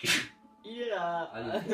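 A single sharp sneeze bursts out at the start, followed by someone speaking briefly in a close, clear voice.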